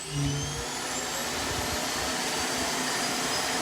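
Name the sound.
robot vacuum emptying its bin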